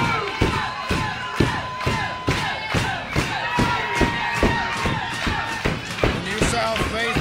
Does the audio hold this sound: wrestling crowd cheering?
yes